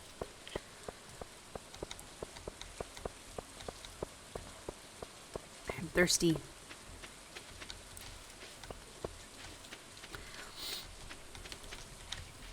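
Gentle rain in the farming video game Stardew Valley, a soft steady patter with scattered drip ticks, quiet and continuous, with a brief spoken remark partway through.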